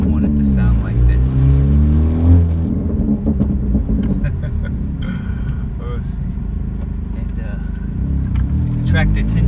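A 2017 Honda Civic Si on a road test, its exhaust disconnected from the front pipe, gives a loud, raspy low engine drone that swells with revs and runs steadily while people talk over it.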